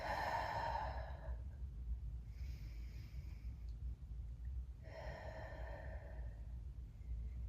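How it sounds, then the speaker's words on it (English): Slow, deep breaths during a Pilates core exercise, each a long audible exhale, close and quiet, with soft inhales between them and no talking. "Inhale through your nose, exhale through your mouth."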